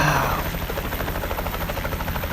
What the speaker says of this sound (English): we were out on the way to go and get a shot on the helicopter